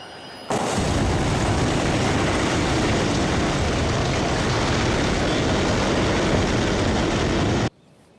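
A train crash shown in slow motion, with the train rolling on its rails afterward, produces a loud, dense, unbroken roar that starts abruptly, holds steady for about seven seconds and then cuts off sharply.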